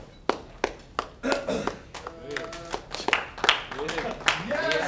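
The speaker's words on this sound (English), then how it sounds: "Slow clap, slow clap." Audience slow clap at a student game pitch presentation for Recursion: a few sharp, spaced claps that grow into scattered clapping, with cheers and excited voices over it.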